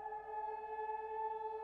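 A steady, sustained siren tone closes out a recording of Chris Stapleton's version of "Nothing Else Matters", holding one even pitch without pause.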